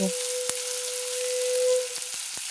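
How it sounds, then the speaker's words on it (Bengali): Steady, close sizzling of onion, garlic, ginger and chilli frying in hot oil, a continuous hiss with a few faint clicks of a utensil and no talking. "পেঁয়াজ রসুন কুচি দিয়ে এটাকে একটু ভেজে নেব"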